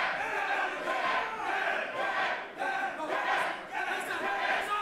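Wrestling crowd at a tag team match, chanting and shouting together in loud rhythmic waves that swell and dip repeatedly, with a faint commentator voice underneath.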